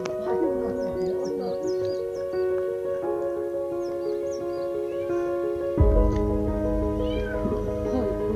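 A cat caught in a net meows repeatedly during a fire brigade rescue in Kahramanmaraş, several drawn-out cries close by, with a steady background hum and a louder rumble joining near the end.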